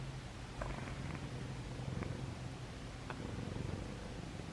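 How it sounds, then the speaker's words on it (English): A cat purring softly up close, a steady low rumbling hum with faint pulsing under a quiet room background. "I wonder if you can hear the purring"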